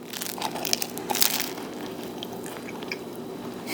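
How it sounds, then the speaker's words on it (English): Crunchy bun of a steak sandwich with smoked red pepper sauce and mushrooms bitten into, a close, brittle crunch with crackly bursts in the first second and a half, then quieter chewing and crackle. "from that little bit of crunch on the bun"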